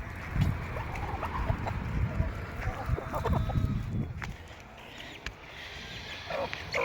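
Farmyard chickens, a flock of around seventy egg-laying hens including rare breeds, cluck and call in the background under a voice, with outdoor ambience throughout.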